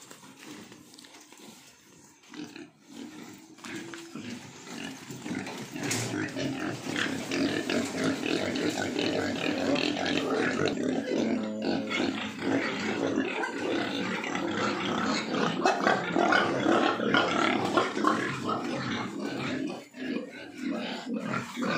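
Pigs on a small farm raised for piglets let out loud, continuous grunts and squeals that build after a quieter start into a long close chorus of overlapping calls.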